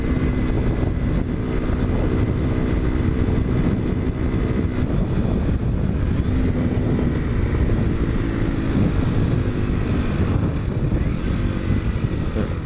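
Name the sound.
motorcycle engine with aftermarket exhaust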